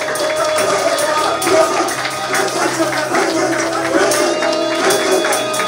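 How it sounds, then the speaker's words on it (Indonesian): Congregation clapping hands while praying at a church service, rapid uneven clapping under loud speech and voices, a busy steady texture close by. "Clap your hands as you pray."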